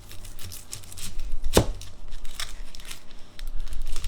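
An onion being cut with a knife: a sharp, crisp slicing crunch stands out in the middle, surrounded by softer rustling and crinkling handling noises at close range, with no talk.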